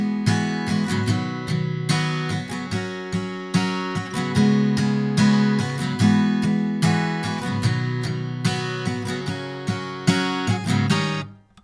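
Pre-chorus chords of a song on guitar, rhythmic strummed chords with short muted stops, played loud and close without any talk.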